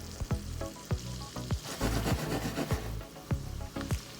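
Garlic sizzles in a pan of sausage and butter mixture, a steady frying hiss broken by a series of sharp clinks and scrapes from stirring, close and moderately loud.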